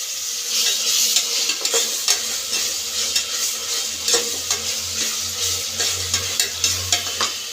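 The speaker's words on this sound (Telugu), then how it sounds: "పుదీనా ఇంకా మసాలా అన్నీ వేసి ఫ్రై చేసుకుంటా ఉన్నాను" Onion fries in a pan with mint and masala, a soft sizzle under regular scraping strokes of a spoon stirring the mix, close-up and steady with no talking.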